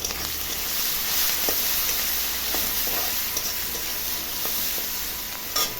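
Onions and garlic fry in hot oil, giving a close, even, hissing sizzle throughout with a few light clicks of stirring.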